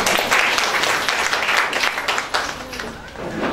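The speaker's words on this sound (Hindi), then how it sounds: "ग्रामीण अंचल से आई महिलाओं के स्वागत के लिए चाहूंगी कि आप लोग तालियां जरूर बजाएं।" An audience at a Women's Day seminar in a press club hall claps to welcome women from rural areas. The applause is fairly close and full, thins slightly toward the end, and has a faint voice beneath it.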